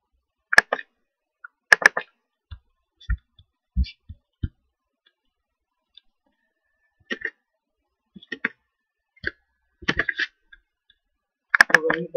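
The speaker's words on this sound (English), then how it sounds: "And when you double click on it" A computer mouse is double-clicked in Microsoft Word 2016, giving sharp, close clicks that come in quick pairs and short bursts, separated by quiet gaps.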